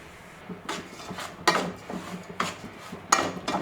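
Semolina being stirred and fried in ghee in a pan over a medium flame, heard as several separate scraping and rustling sweeps of the spoon against the pan, close and moderately loud, with no one talking.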